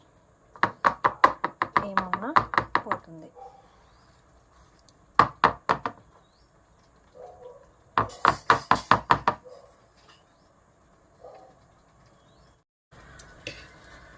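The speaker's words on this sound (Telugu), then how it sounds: "ఇలా ట్యాప్ చేయాలి. ఎయిర్ బబుల్స్ లేకుండా చూసుకోవాలి." A cake tin tapped on a surface to knock out air bubbles from sponge cake batter, made without an oven: quick rhythmic clusters of sharp knocks in separate bursts, close and loud, with a brief spoken phrase.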